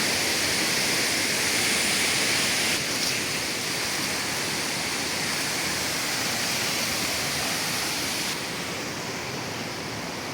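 A loud, steady rush of a flowing river stream below a steep cliff fills the whole stretch, a dense broadband roar close by with no voices.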